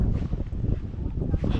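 Wind buffets the microphone at Sagargad Fort near Alibag, Maharashtra, a loud, steady low rumble that fills the whole moment with no break.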